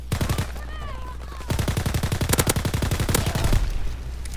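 Rapid automatic gunfire from a video game shooter, loud bursts of fast shots after a few opening cracks, with a player talking lightly in the gaps.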